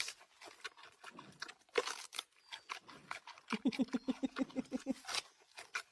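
A panda chews and crunches its food up close, with wet biting and a quick rhythmic run of crunches near the end.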